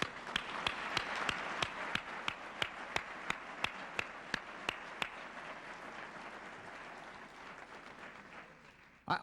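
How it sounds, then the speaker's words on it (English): A crowd at a 1993 Blockbuster Video event applauds in a steady wash of clapping with prominent rhythmic claps, heard at a distance in a large room, gradually fading out near the end. "I'd like you all to give him a big round of applause"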